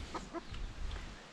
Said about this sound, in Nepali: कुखुराहरू